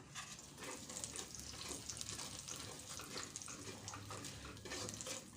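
Cashew Mysore pak mixture is stirred with ghee in a pan, making a faint, continuous bubbling sizzle and soft scraping movement.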